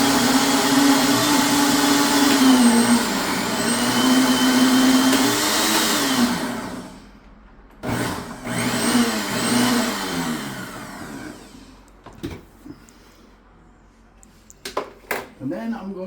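A blender purees pineapple jalapeno hot sauce with a loud, steady whir for about seven seconds, its pitch sagging and rising as the load shifts, then a shorter pulse follows, trailed by scattered clatter and quiet.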